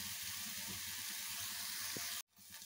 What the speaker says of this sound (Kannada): ಟೊಮೆಟೊ ಕೂಡ ಈಗ ಫ್ರೈ ಆಗಲಿ.